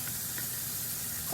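Bacon fries in a pan for cheese fries while being spread around, a soft continuous sizzling hiss over a short stretch with no talking.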